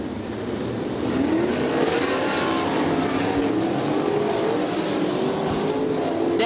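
410 sprint car engines roar steadily on a speedway under green flag, a continuous loud drone with rising and falling whine as cars pass, no voices.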